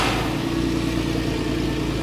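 A 2002 Porsche 996 idles steadily through its exhaust, a close, even mechanical rumble with a constant low throb and no breaks.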